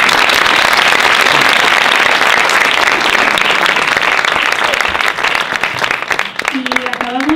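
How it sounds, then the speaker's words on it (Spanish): Dense, sustained audience applause at an improv science-theatre show, loud and continuous for several seconds before thinning out as a voice begins speaking near the end. "Un aplauso."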